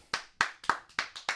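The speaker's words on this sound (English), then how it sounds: "Okay, let's clap." Sharp hand claps on a morning radio show: six crisp, close claps in a slightly uneven rhythm, each a distinct snap with a brief decay and quiet gaps between.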